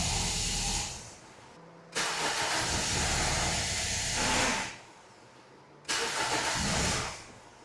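A Toyota Corolla with a dead misfire across its cylinders is started and runs roughly. A loud, hissy engine roar rises and falls in two long surges separated by sudden drops.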